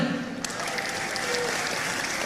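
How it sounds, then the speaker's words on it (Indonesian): Crowd applause at a public town-hall style question-and-answer gathering in Riau, a steady wash of clapping with voices mixed in beneath it. "Tuh dia, tepuk tangan."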